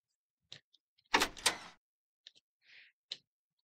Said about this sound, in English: The door unlocked.